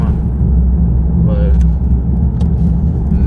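Cammed Pontiac G8 with a straight-pipe exhaust rumbling loudly and steadily from inside the cabin while driving, a brief voice over the drone.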